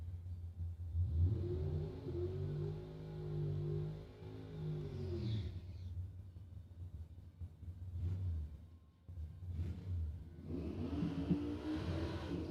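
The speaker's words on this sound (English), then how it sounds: "Kaylee Richards, Chris Pope complete the burnouts" Drag racing cars do burnouts at a drag strip: a deep, harmonic engine rev that holds loudly for several seconds, then cuts away, followed by further bursts of roaring revs and a rising tire-spin hiss toward the end.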